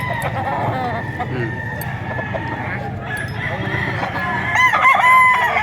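Rooster crowing at a poultry market in Padre Garcia, Batangas, a loud nearby crow rising toward the end amid clucking fowl, with someone talking over the scene.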